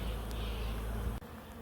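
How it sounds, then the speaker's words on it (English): A dense, steady buzz of many honey bees around an open hive fills the air up close, continuous and even throughout. "close the hive and let the bees sort themselves out"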